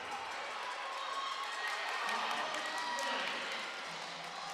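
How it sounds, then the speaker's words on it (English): A large crowd roars and cheers continuously at a track and field relay during a university national championship meet, a sustained wash of noise heard beneath a commentator's voice. "You can hear the crowd going nuts in the corner there"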